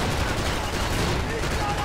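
Gunfire in the video game Max Payne 3, a dense burst of rapid shots filling the whole moment, loud and close with a rough rattling texture.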